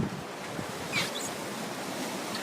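Wind and surf at sea from aboard a sailboat in the trade winds, a steady broadband wash of waves and breeze with a brief louder gust near the middle.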